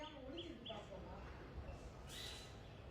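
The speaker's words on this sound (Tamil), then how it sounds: "கத்திக்கிட்டு இருக்கு கீ கீன்னு" A frightened bird gives a few short, high, repeated kee-kee screeches, close by and moderately loud, with other faint chirps scattered through and a voice speaking near the end.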